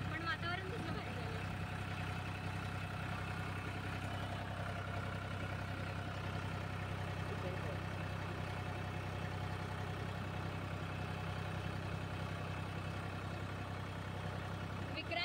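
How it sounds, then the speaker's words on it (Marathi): A farm tractor engine running at a steady low drone, close and continuous throughout, with a faint voice or two in the background. "विक्रांत शेठ ट्रॅक्टर चालवत आहे।"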